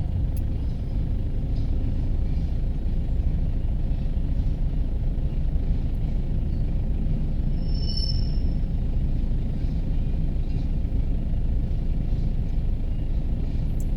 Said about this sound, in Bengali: এই যে ট্রেন চলে আসছে দেখেন